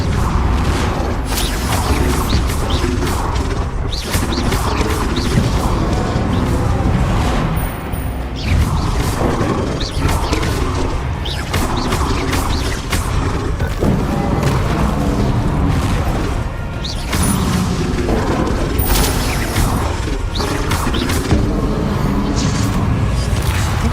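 Bombarda blasting spells go off in a Hogwarts Legacy final boss battle, a dense, loud run of booming explosions and crashes with no letup.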